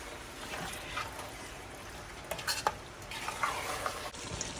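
Mutton curry is being stirred and simmered in a kadai, a steady low frying hiss with a few brief scraping clatters of the spoon against the pan, close and continuous.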